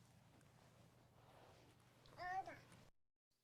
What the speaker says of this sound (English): Then you'll hear the baby.